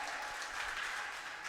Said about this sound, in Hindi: एक बार अपने लिए ज़ोरदार ताली बजा दीजिएगा, लगे कि आप लोग सुन रहे हैं।